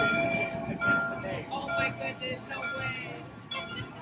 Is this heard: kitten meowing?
no